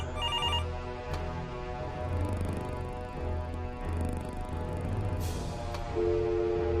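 A video game phone rings repeatedly in steady electronic bursts over a low background drone, fairly close and clear, with no one speaking.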